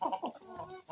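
Backyard chickens kept for home use on a small poultry farm cluck in short, close bursts through a brief moment, with no one talking over them.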